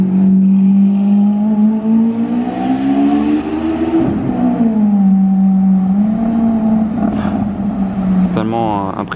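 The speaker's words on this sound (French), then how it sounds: "Au bruit, c'est une Aventador, même SV." A Lamborghini Aventador SV on a street revs hard, its engine note climbing, dipping and climbing again in loud sweeping pulls, ending with a quick rising rev.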